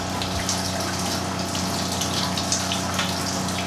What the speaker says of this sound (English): when you hear the pump slow down, and it's off